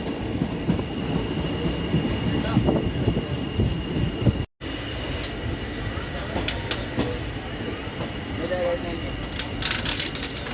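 An express train between Ambala Cantt and Bathinda rolls along the rails, heard from on board as a steady rumble with rhythmic wheel clatter and occasional squeals, with faint voices in the background.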